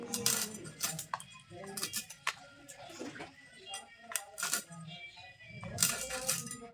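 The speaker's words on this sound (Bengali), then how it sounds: "তো দেখো মাছটা আমি কেটে নেবো এখন" A knife cuts through a fresh rohu fish on a board, producing irregular sharp taps and scraping clicks, close and fairly quiet, spaced unevenly across the moment.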